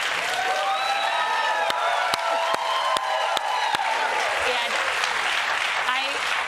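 A television studio audience on the Daily Show claps steadily, a dense wash of applause mixed with whoops and cheering voices, with a few sharp louder claps standing out near the front.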